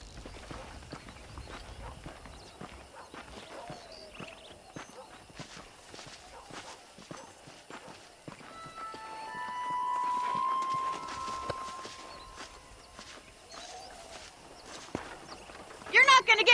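Horse hooves clip-clop at a steady walking pace in the Red Dead Redemption video game, moderately loud and continuous under a man's spoken dialogue, with a sustained tonal sound rising briefly in the middle.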